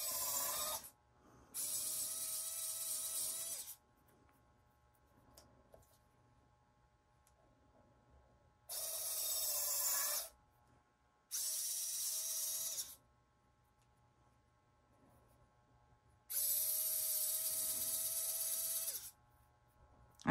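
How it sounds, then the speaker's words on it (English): A small drill bores holes in polymer clay earrings in short bursts, four separate whirring runs of a couple of seconds each with quiet gaps between, heard close with no talking. "So I'm just going to use my drill"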